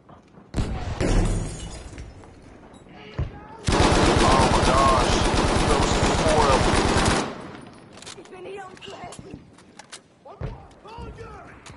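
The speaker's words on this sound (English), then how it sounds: "Go, no, they're shooting at you." Video game gunfire, a long sustained burst of rapid automatic fire dominating the middle, framed by shorter shots and impacts, loud and close, with players talking over it.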